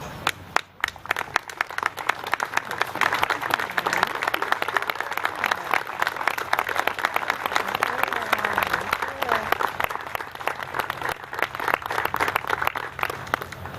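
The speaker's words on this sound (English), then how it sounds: "join me in a round of applause for these heroes" Crowd at a 9/11 memorial ceremony in Webster, New York, applauding first responders: dense, sustained clapping from many hands that holds steady throughout, with faint voices mixed in.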